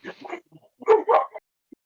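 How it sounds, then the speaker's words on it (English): A dog barks a few times at moderate distance, short sharp yaps in two quick bursts during a pause in a recorded conversation, with faint voices nearby. "As I say that, instantaneously we have a barking dog."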